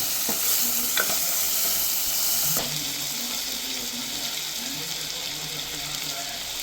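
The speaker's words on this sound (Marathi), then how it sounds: "टोमॅटो पण चांगले त्यामध्ये परतून घेऊ" Chopped tomatoes sauté over browned onion in a pan, a continuous close sizzle broken by a few sharp spoon knocks and the scrape of stirring, with no talking.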